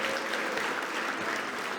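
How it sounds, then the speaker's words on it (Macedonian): An audience at a women's fashion show applauds a model on the runway, with dense, even clapping that holds steady for the whole short stretch. "Аплаузот за тебе, Веселинка."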